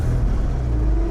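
A neglected Porsche Boxster 987.1 engine turns over and runs with a loud, steady, close low rumble lasting about a second.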